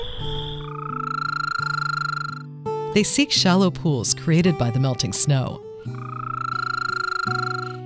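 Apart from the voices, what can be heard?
spring frogs calling at night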